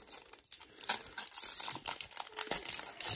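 A crinkly foil trading card pack being torn open and crumpled up close, a run of sharp crackles and rips that fills the whole stretch with no talking.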